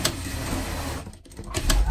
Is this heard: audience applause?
no